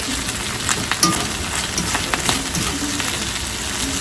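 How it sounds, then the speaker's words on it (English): Meat frying in a pan sizzles steadily and close by, with scraping, clicking stirs as the pieces are moved around; the meat is a little fatty. "just move your meat around so that it's cooking thoroughly all the way through"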